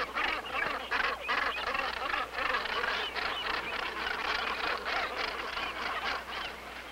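Gannet colony calling on sea cliffs off Canada's east coast, a dense, continuous chorus of harsh, rhythmic honking calls from many birds, loud and steady throughout.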